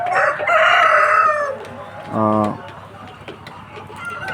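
Layer hens in a poultry shed housing about 1,580 birds, with a rooster-like crow rising over steady clucking and a short harmonic squawk, heard close under ongoing farm noise.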